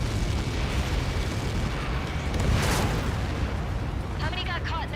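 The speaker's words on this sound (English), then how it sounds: "How many got caught in that explosion?" A massive explosion in Ace Combat 7 rumbles as a dense, sustained roar with a sharper burst near the middle, followed by a voice on the radio.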